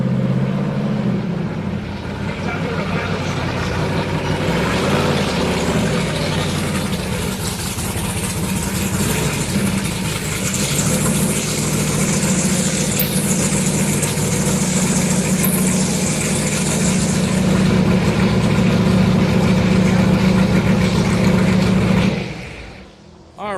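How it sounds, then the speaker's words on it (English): A V8 engine idles steadily up close after a hot desert run, a deep burbling rumble with a faint hiss, cutting off abruptly at the end. "that's what a V8 sounds like after a hot run in the desert"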